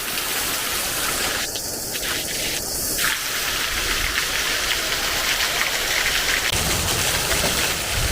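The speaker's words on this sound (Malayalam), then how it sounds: "വൈകിട്ട് പോകാറായപ്പോഴത്തേനും അടിപൊളി മഴ." Heavy evening rain pours down in a steady, dense hiss that carries through the whole stretch, loud and close, with no talking over it.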